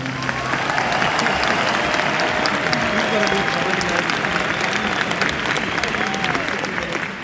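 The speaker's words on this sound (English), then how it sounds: "a round of applause" An audience gives a sustained, loud round of applause at an indoor evening show. The clapping is dense and even throughout, with some crowd voices mixed in.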